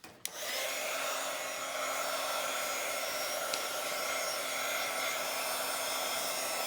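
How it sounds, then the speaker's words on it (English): A hair dryer blowing over a freshly inked Bible journal page, switching on with a click and then running at a steady, close, continuous whir for several seconds with no talking. "let me dry this with my dryer"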